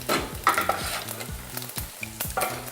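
Whole spices crackle and pop in hot oil on a stove, dense spitting sizzle with sharp bursts and stirring, loud and close, no voices.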